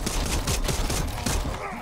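A rapid volley of sharp revolver gunshots in the video game Dead Island 2 bursts out in quick succession, loud and clipped, with a brief tail of rumbling echo as the firing stops.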